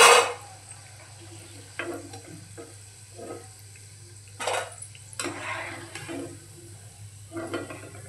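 Mixed dal bhaji are lifted out of hot frying oil, with a steady low sizzle beneath intermittent scraping and clinking of a metal utensil against the pan, several short bursts, close by, with no talking.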